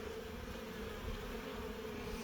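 Honeybees buzz steadily around a hive during spring work on the colony, a dense continuous drone close by with no talking.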